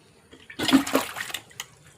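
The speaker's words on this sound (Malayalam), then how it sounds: "ഇനി നമുക്ക് ചെയ്യേണ്ടത് ഇതിനകത്ത് കുറച്ച് വെള്ളം ഒഴിച്ചു കൊടുക്കണം" Water is poured into a container for a garden soil test, a short, close gush and splash lasting about a second before it tapers off into quiet.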